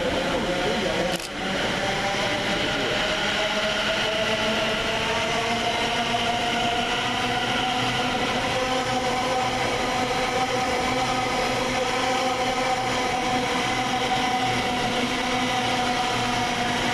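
A TfL Rail train moving at a platform of Romford railway station, a steady mid-distance rumble with wheel and motor tones over station ambience, opening with a sharp click.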